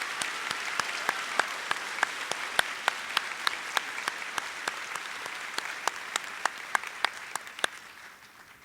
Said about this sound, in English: Let's give a round of applause for our valedictorians.